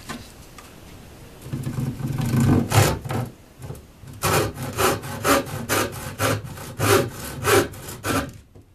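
Pallet wood pieces cut with a saw, a series of rhythmic back-and-forth strokes, close and loud, with a brief pause before the steady sawing resumes.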